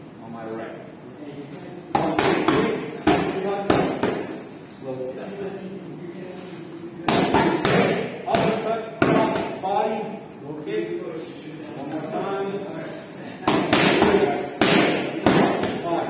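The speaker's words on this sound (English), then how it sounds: "After the liver shot, he's going to throw a low kick on my right." Kickboxing pad work, a liver shot followed by a low kick, with sharp thuds of strikes landing on pads in quick bursts, close and loud, over steady talking.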